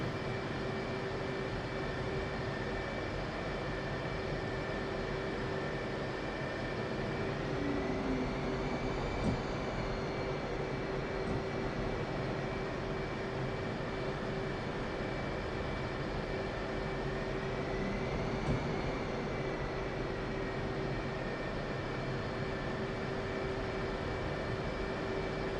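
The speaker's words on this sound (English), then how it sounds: "Increase engine RPM and enter the runway." An F/A-18 jet in a flight simulator game taxis onto the runway with engine RPM rising, a steady loud roar and high whine that hold evenly throughout with no voices.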